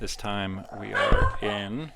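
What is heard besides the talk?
dog barking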